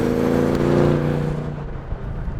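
Bentley Continental V8S in sport mode with the optional sport exhaust, revving hard: a loud, close, deep engine roar that swells and then fades slightly as revs drop, with no talking.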